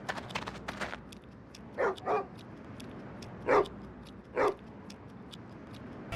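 Dogs bark in the Jackass video game on PS2, with four sharp barks, some in a quick pair and others spaced apart, over a steady background hum of game ambience.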